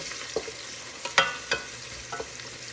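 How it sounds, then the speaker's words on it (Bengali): Onion, ginger and garlic fry in a pot, with a few soft sizzling crackles and stirring scrapes spaced across a quiet background. "দিয়ে দিলাম পেঁয়াজ, আদা রসুন, আবার রসুন কেটেও দিয়েছি।"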